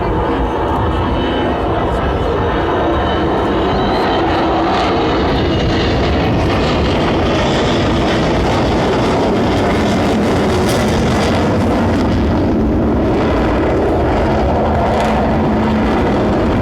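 An Avro Vulcan bomber flies past at an air display, its engines a loud, continuous, broad roar and whoosh that swells and lingers overhead, with speech mixed in.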